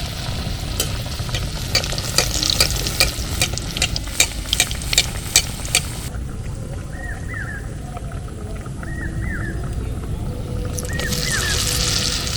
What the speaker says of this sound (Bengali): এইভাবে একে একে সবগুলোকে আমি ভেজে নেব।